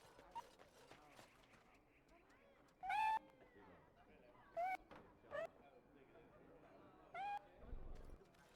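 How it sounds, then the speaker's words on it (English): Cats meowing in Dragon Age: Origins, a few short, high, rising meows spaced through the stretch at moderate level over a quiet game background. "I keep hearing cats. Why are there so many cats?"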